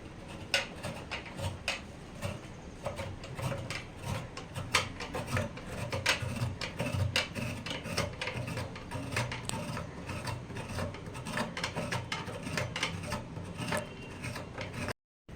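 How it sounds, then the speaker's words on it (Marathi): Fresh coconut is grated by hand for ukadiche modak, giving close, rhythmic rasping strokes that repeat steadily for about fifteen seconds with no speech. "हे ओलो नारळ आपण किसून घेऊया"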